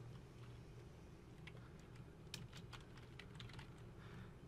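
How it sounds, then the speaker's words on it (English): Soft, quiet keystrokes tap on a computer keyboard as a last name is entered in a Google Docs document, a short, irregular run of light clicks over faint room hiss. "now I'll type my last name"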